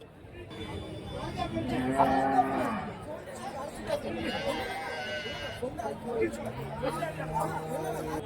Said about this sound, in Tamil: இந்த சைடு வந்து சென மாடு, அதுக்கு அந்த வண்டிக்கு அந்த சைடு தான் வந்து கைக்கார மாடு எல்லாமே இருக்கும்.